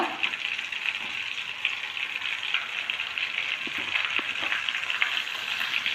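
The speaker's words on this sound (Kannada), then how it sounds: "ಈ ಥರ ಫ್ರೈ ಆಗ್ತಾ ಇದೆ ಮೆಣಸಿನ್ಕಾಯಿ" Gram-flour-battered chillies stuffed with masala sizzle in hot oil, a steady bright frying hiss with small pops and crackles, close and moderately quiet, with no talking.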